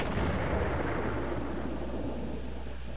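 Thunder rumbles in the horror video game Siro ONI 2, a low rolling growl under a steady rain-like hiss that slowly fades over a few seconds, with no talk.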